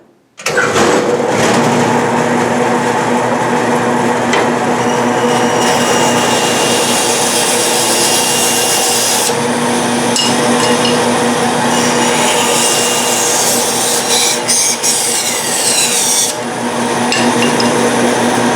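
Woodshop bandsaw running loud and close, a steady high whine and hum with grinding texture as the blade cuts wood on a 45 degree angle, sustained throughout with slight shifts in pitch.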